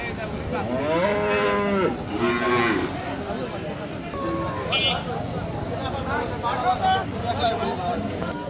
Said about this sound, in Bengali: বিশাল একটা ফ্রিজিয়ান গরু